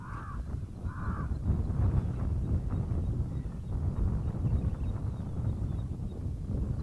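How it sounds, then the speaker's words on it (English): A black crow caws twice in quick succession near the start, outdoors, against a steady rush of wind noise that continues after the calls fade. "Okay, that's a black crow."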